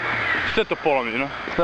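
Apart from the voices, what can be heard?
crows cawing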